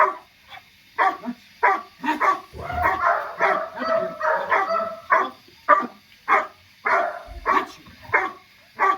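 A dog barking repeatedly during training among other dogs, sharp close barks and yips in an irregular run, with a handler's voice talking in between.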